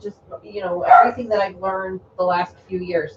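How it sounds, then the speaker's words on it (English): A dog barks in the background of a home, half-buried under steady nearby conversation that runs through the whole stretch. "Sorry for the dog barking in the background"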